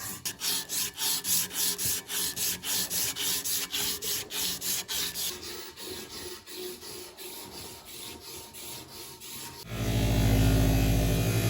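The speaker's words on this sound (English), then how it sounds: "thrumming with a piece of a sanding belt was the most effective way to clean up and polish the basket" A strip of sanding belt is pulled back and forth through a dagger's metal basket guard, giving rhythmic, rasping strokes roughly two per second that slow and soften, followed by a different steady grinding tone at the end.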